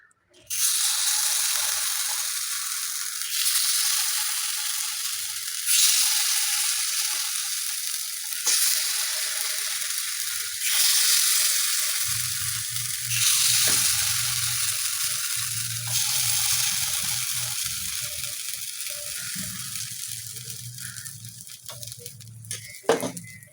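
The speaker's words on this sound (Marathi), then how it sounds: "थोडं तेल तापलं की आपण चेक करायचं की तेल तापलं की लगेच त्यामध्ये भांड्याच्या आकाराने आपण त्यामध्ये तेवढे तेवढे ॲपे" Spoonfuls of appe batter sizzle steadily in hot oil in an appe pan, a dense continuous hiss that swells slightly with each new addition, with a low hum of the gas flame underneath.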